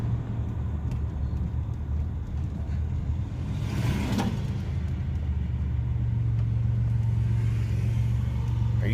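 A 1989 Chevrolet Celebrity with a failed lower intake manifold gasket idles steadily up close, its low engine hum rising and falling slightly as the idle surges, with no talking.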